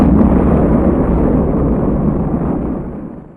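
Loud, sustained explosion effect portraying matter-antimatter annihilation, a deep rumbling roar with a sharp onset that holds steady for about three seconds before starting to fade.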